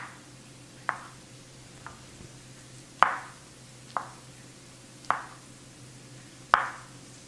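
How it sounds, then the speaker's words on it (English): Knife slicing mushrooms on a cutting board while making calzone filling, giving six or seven separate crisp chops at irregular intervals, close and fairly quiet over a faint steady background hum. "So I have just a few more mushrooms to slice."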